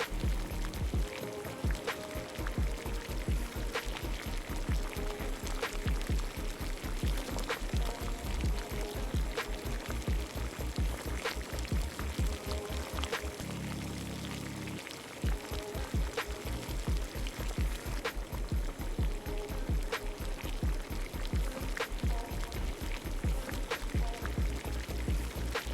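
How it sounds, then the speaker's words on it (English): Puree, yucca root, potatoes and pickled jalapeños go into a pan of cooking chicken. A continuous loud sizzle and bubbling runs throughout, with small clatters and a brief dip in the middle. "I add in my puree along with my yucca root, potatoes, and pickled jalapeños."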